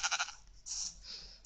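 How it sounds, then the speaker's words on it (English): Sheep in the Minecraft video game bleating after being spawned: a quick run of short wavering bleats, then a longer drawn-out bleat and a softer trailing one, fairly close and clear with no talking. "if we spawn a sheep"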